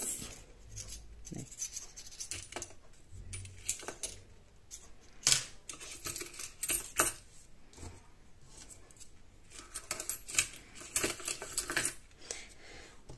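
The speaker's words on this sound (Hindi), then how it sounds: "एक हाथ से हम चम्मच से इन सिक्कों को निकालेंगे" A spoon clinks and scrapes through metal coins in a bowl filled with thermocol during a party game, with irregular sharp metallic taps and jingles scattered across several seconds, close and fairly quiet.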